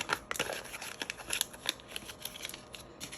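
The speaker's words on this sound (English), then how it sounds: "So I'm going to fold this dollar bill up." A dollar bill being folded by hand, with sharp paper crinkles and creasing snaps in quick irregular bursts, close and fairly quiet, with no talking.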